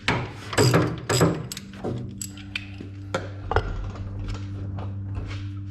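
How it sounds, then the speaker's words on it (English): A ratchet loosens the differential fill plug on an M422A1 Mighty Mite, giving a few sharp clicking bursts early on followed by a steady mechanical hum in the background. "I'm going to loosen up fill plug too at the same time."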